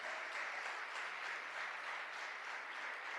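Steady, fairly quiet applause from a church congregation at a service, a dense even patter of many hands clapping throughout without letting up.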